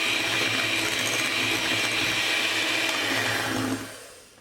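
An electric mixer beats eggs and vanilla for a cake batter, a loud steady motor whir with a faint rattling edge, close up, then winding down in the last moment; no talk.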